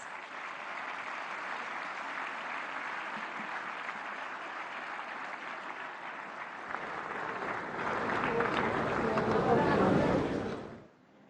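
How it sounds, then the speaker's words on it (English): Summit audience at Bharat Mandapam, New Delhi, applauding the Prime Minister's arrival, steady clapping that swells louder near the end before cutting off abruptly, with voices mixed in. "let's welcome him with a round of applause"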